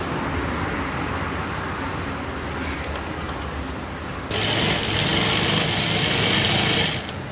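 Sewing machine stitching fabric for a readymade saree, a quiet mechanical whir first, then a louder, faster continuous run of stitching for a few seconds before it stops.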